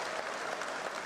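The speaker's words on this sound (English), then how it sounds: "you do deserve another round of applause for this work you have done" Audience at an official opening ceremony for a national SMEs and cooperatives gathering breaks into full applause, a thick, sustained wash of many hands clapping at a steady level.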